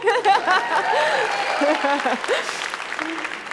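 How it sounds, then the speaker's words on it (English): A startup demo day audience claps at moderate volume, with laughter and chuckles mixed in, while a presenter keeps talking over the applause. "you can clap for that"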